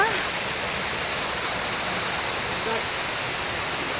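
Steady broadband roar of a waterfall in Agoriani, Greece, continuous and fairly loud, with faint voices briefly audible under the rushing water.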